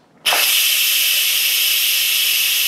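An Instant Pot vents steam through a quick release after cooking Cuban black beans, bursting into a sharp, loud, continuous hiss right after a moment of quiet, then holding steady and close.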